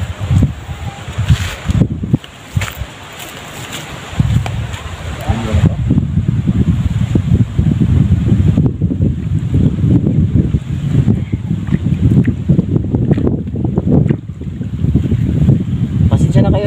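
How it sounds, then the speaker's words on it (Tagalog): Strong wind buffets the microphone in heavy, continuous roaring gusts while fishing, with voices talking faintly in Filipino beneath and water noise in the background. "malakas yung hangin"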